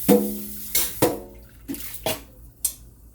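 Juice poured out of a bowl while cooking ginger shrimp noodles: a few short liquid splashes and drips in separate bursts, close and clear, with light clinks of the bowl between.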